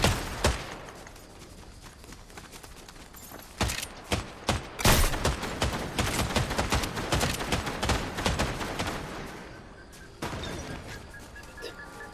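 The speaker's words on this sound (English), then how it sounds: "Keep shooting the tree." Rapid gunfire in an online shooter video game, dense bursts of shots and sharp cracks that come in quick clusters, loud and close throughout with no talking.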